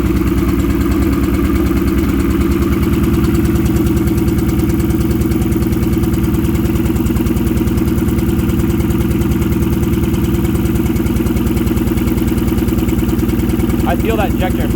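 A Toyota JZX100's engine runs steadily at idle with a fine rhythmic ticking of injectors firing, loud and constant throughout, with a brief voice near the end.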